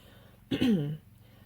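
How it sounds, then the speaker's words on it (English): Single short cough or throat-clear from one person indoors, a brief close burst lasting about half a second against a quiet background. "Pause for a second to cough."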